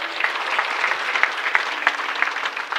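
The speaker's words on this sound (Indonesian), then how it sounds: "Boleh tepuk tangan, boleh." A church congregation claps during an Indonesian sermon, with steady, dense applause running throughout and no voices.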